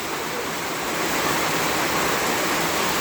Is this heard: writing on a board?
no